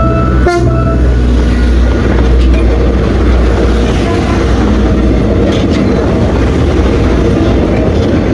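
A train rolls past close by near a flyover under construction, a loud continuous rumble and clatter of rail cars with a brief horn-like tone near the start.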